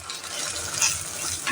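Spoon stirring a thick mix of spices and whisked yogurt in a frying pan, a soft continuous wet scraping and faint sizzle, close and steady for a brief moment with no talk.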